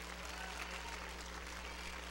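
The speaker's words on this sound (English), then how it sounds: "Clap your hands." A church congregation clapping hands, a steady, dense wash of applause from a crowd, heard at some distance and evenly sustained without breaks.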